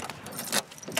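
Car keys for a 626 jangle and clink in several quick, close metallic bursts inside a car.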